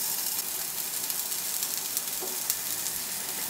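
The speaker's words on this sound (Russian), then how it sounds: "Обугливаем наш лук на сухой сковородке" Onion halves, still in their skins, char cut-side down in a dry frying pan, giving a steady, soft, hissing sizzle that holds even throughout, with no voices.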